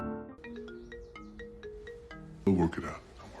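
A phone rings in a film scene, a repeated bright electronic ringtone of short pulsing tones, and a voice cuts in over it near the end.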